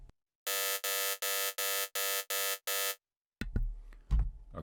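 Seven evenly spaced, loud buzzy synth stabs from a Vital psytrance preset with heavy frequency modulation, each cut off sharply, followed by some brief rustling noise.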